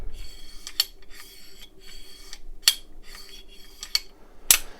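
An Aero Precision Solus rifle action being cycled by hand, with a series of close metallic sliding and clacking strokes, several rasping bolt movements punctuated by sharper clicks, heard alone without talk.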